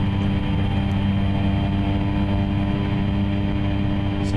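A Carenado Cessna 208B Grand Caravan turboprop in X-Plane 11 gives a steady, loud engine drone and hum on the landing approach. The drone is continuous and unchanging and no one talks.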